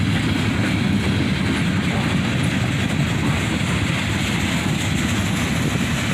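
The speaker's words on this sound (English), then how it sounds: "the Southbound has a loaded continuous rail train on the front" A loaded continuous welded rail freight train rolls past close by, a steady, loud rumble of wheels and cars with faint clickety-clack throughout.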